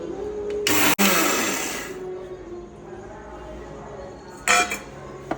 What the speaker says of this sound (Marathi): आपल्याला ओवा आणि शापा मिक्सरला एकदम बारीक प्रकारे करून घ्यायचं आहे